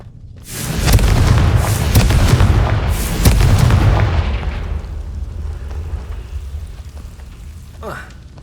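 Confringo blasting spells in Hogwarts Legacy set off a rapid series of heavy, booming explosions, several big blasts in quick succession that roll into a long rumble before fading, with a faint swish near the end.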